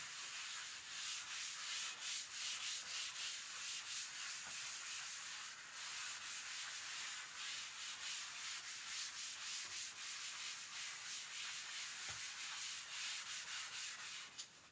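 A duster rubs writing off a board in a classroom, a steady close scrubbing and swishing with continuous back-and-forth strokes lasting the whole stretch, no talking.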